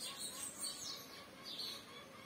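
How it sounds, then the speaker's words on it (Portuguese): Faint, high chirps from a sparrow repeat a few times in the distance over low background noise. "Em pardal cantando, galinha cantando, carro passando."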